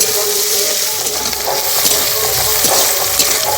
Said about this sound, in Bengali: কাঁচা লঙ্কা আর কুচনো পেঁয়াজ। অল্প একটু ভেজে নেব লাল লাল করে।